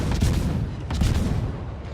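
Naval guns firing at a Shima destroyer in a warship video game, heavy booming salvos rolling into one another with rumbling echoes, loud and continuous throughout.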